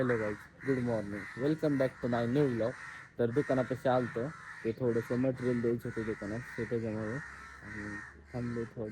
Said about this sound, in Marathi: कावळे खूपच ओरडत आहेत